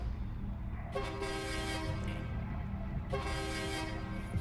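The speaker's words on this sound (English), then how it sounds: "Gotta love the air horn." A train air horn in the survival game Voidtrain sounds two long chord-like toots over a steady low rumble of the moving train, moderately loud and separated by a short pause.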